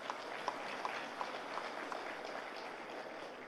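Audience applause at a Tamil speech event honouring media workers, a steady wash of clapping at moderate distance lasting a few seconds.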